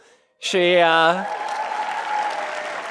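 Audience applause at a political conference, following a brief harmonic sound at the start; the clapping continues steady and fairly loud to the end, with no one speaking over it.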